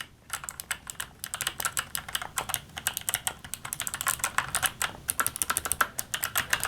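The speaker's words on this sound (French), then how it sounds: "je vais vous faire écouter des Kailh Box White que je trouve vraiment excellentes" Fast, continuous typing on a mechanical keyboard with Kailh Box White switches, crisp clicky keystrokes in a steady flurry, close and fairly loud with no talking.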